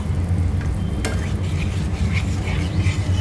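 A spoon stirring an egg curry in white sauce, seasoned with salt, in a pan. A steady scraping stir runs over a continuous sizzle, close and fairly loud, with a sharp clink of utensil on metal and no voices.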